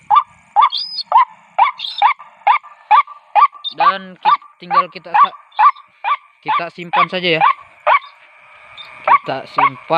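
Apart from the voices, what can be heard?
recorded white-breasted waterhen call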